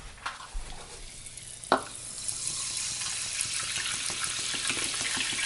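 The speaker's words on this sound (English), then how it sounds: "Did not realize how fizzy that was going to be." Club soda fizzes and crackles while batter for codfish and chips is mixed, a few clinks of utensils early on, then a steady bright hiss of carbonation building and holding, near and moderately loud.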